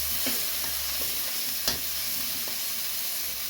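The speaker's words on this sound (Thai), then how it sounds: "ลงพริกแกงก่อนนะครับ ผัดพริกก่อน ที่เราโขลกไว้" Pounded chili curry paste stir-fried in a pan for a spicy beef stir-fry, with a quiet, steady sizzle broken by a few soft spatula scrapes and taps up close.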